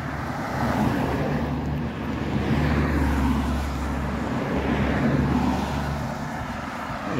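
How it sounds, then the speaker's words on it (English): Road traffic on State Route 390 in the Poconos, a steady low rumble of passing vehicles heard from the roadside while walking, continuous and moderately loud, no talking. "a lot of traffic for the Poconos today."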